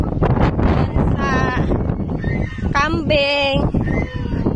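Goats bleat on a farm in several wavering, nasal calls, the loudest pair near the end, over steady wind and rustling noise with a voice talking in the background.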